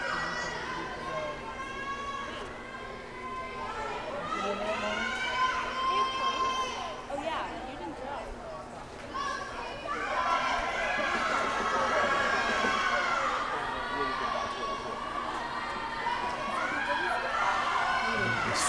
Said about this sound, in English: Lot more cheering down in the relay race.